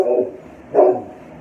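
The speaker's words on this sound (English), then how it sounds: "hopefully Miss Ada won't come back in here barking" A dog barks close by, two sharp barks separated by a short pause, with nothing else around them.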